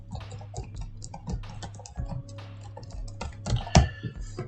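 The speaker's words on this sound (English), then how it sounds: "I'm going to type on the keyboard here and see how it picks up on the mic." Someone types on the keyboard of an Alienware X15 gaming laptop, giving rapid, uneven close key clicks with a louder burst of taps near the end, picked up by the built-in microphone.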